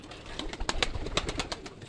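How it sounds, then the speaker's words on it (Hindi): Pigeons coo in a soft, repeated series of low throaty calls, fairly close, with a faint background hiss. "कबूतर"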